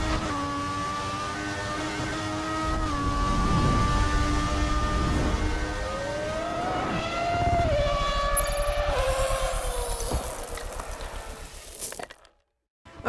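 F1 car lapping Monza in a racing video game, a loud sustained engine whine climbing through gear shifts with falling drops between, continuous and close, cutting out abruptly at the end.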